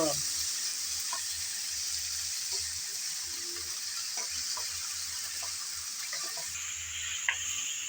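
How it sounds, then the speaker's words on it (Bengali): Ginger garlic paste stirred and fried in a pan for a pickle makes a quiet, continuous sizzle, dotted with light scraping and tapping of a spoon. "আদা আর রসুন দিয়ে আবারও একটু নেড়ে চেড়ে ভেজে নেব"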